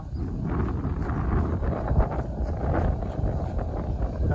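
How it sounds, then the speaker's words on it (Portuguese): A strong wind blows steadily outdoors during kite flying, roaring and gusting against the microphone with faint rustling and flapping throughout. "Pra vocês terem noção como o vento tá forte hoje, hein?"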